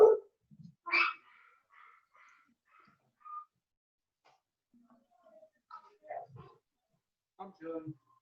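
Dogs barking in short, scattered bursts of yips and barks at close range, with stretches of quiet between them and a person's voice heard at times.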